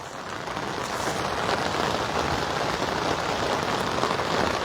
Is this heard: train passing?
no